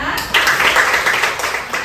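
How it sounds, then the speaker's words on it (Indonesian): A short burst of classroom applause from students clapping for a classmate during a science lesson, several pairs of hands rattling briefly and close by, then tapering off. "jadi tepuk tangan untuk temannya"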